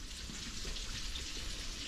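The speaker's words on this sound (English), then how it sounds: "Gonna squeeze some Worcestershire." Worcestershire sauce squeezed from a bottle into a marinade for cooking barracuda, a steady hissing liquid stream heard close for a couple of seconds, with no talk.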